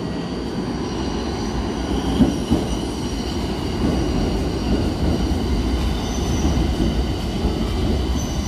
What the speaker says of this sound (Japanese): 電車が到着いたします。